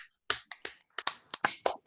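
Online meeting participants clap through open microphones for a guest speaker, a sparse run of about eight sharp, separate claps with brief gaps and little room echo between them.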